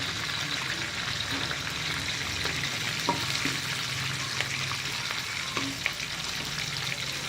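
Cashews and green chillies frying in hot oil for tomato upma, a steady close sizzle throughout with a few faint clinks of a stirring spoon.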